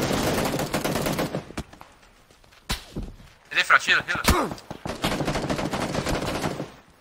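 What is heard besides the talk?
gunfire in an online shooter video game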